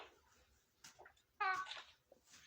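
A voice imitates a cat's meow in one short, bright cry. Soft breathy sounds and quiet murmuring come before and after it.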